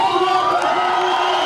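An enormous crowd at a World Touring Car Championship race cheering for Michelisz, a loud continuous roar with sustained tonal whoops and horns, all at a steady level.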